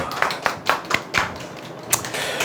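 A small audience clapping sparsely, a handful of separate sharp claps spaced irregularly rather than a sustained round, close and fairly quiet.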